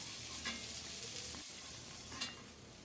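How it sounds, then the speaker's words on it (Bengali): Pieces of rui fish fry in mustard oil, a soft, fairly faint sizzle with light crackles and an occasional stir or scrape, with no one talking. "সবগুলো মাছ লাল লাল করে ভেজে নিয়েছি এখন উঠাবো"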